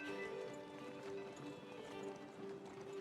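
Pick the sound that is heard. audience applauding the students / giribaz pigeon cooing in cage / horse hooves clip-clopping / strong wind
horse hooves clip-clopping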